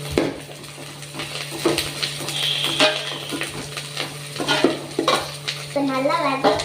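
Sliced onion, dried chili and curry leaves sautéing in a pan for murungaikkaai poricha kulambu, steady sizzle with repeated close spoon scrapes and knocks against the pan, and a brief voice near the end.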